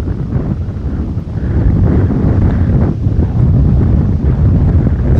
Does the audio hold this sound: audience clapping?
no